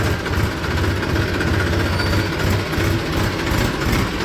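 A farm tractor engine at home runs a fodder chaff cutter, giving a loud, steady, rough throb with rattling vibration that continues unbroken and close throughout, with no voices.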